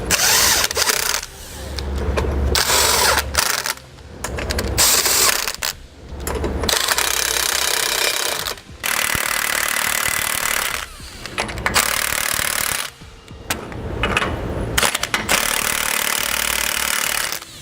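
A power impact tool tightens U-bolt nuts on a rear anti-sway bar setup, loud repeated bursts of whirring and hammering separated by short pauses.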